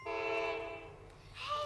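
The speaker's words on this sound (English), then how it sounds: "It's a train." A train horn sounds a sustained chord, loud and steady, then fades slightly before a second higher blast begins, with a low rumble of rail traffic underneath.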